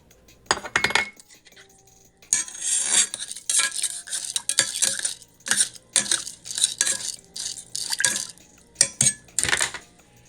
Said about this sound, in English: Then put the cut up chives into the rice and mix them well.